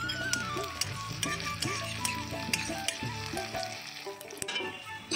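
Whole spices (bay leaf, dried red chilli, crushed cinnamon, cloves, cardamom) sizzling in ghee with a spoon of sugar, a steady close crackling fry with light stirring clicks.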